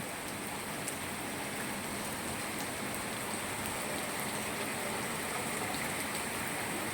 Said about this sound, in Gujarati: મસ્ત વરસાદ પડે છે